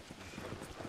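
Horses' hooves clip-clop in a quick, soft, faint patter on the ground in the Wild West roleplay game RedM, lasting under a second.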